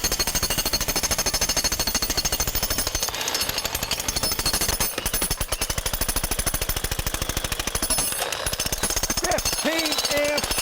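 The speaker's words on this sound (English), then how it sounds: "He's got a great demolition hammer, and he's going to show us how that thing works" An electric demolition hammer with a 15-amp motor and 1,000 beats per minute breaks material in rapid, loud, continuous hammering close by. It runs almost without pause for the whole stretch, with brief dips near the middle and end.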